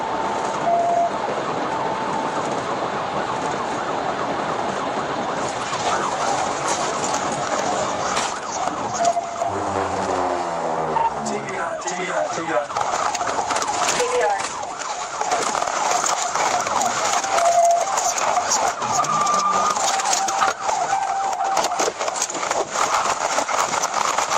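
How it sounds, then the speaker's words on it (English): A car engine roars steadily during a high-speed police chase and nearly buries a wailing police siren that sweeps up and down in the background. "The sound of the engine almost completely drowns out the siren."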